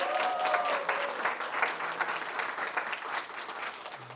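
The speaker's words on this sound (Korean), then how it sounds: "오늘 또 특별히 참여한 청년 리더들에게 박수 한번 쳐주시기 바랍니다" Congregation applauding youth leaders at a church vision camp, steady enthusiastic clapping from a crowd across the whole stretch, fairly loud and continuous.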